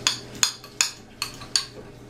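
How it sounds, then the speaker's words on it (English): Spoon stirring raisins into a cinnamon egg mixture in a bowl for stuffed French toast, five sharp clinks against the bowl at a steady, brisk rhythm, close and clear with no talking. "Add your raisins or dry fruit or whatever you use and mix it well in."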